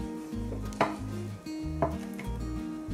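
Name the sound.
knife cutting tofu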